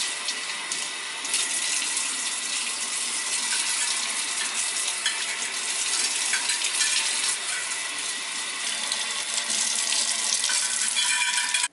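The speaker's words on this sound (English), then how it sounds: "So now we're gonna rinse all the tools off, place them right here and dry them off" Barber tools rinsed under a running tap after disinfecting in Barbicide, a steady broadband hiss of water splashing into a sink with occasional clinks of metal, continuous and close throughout.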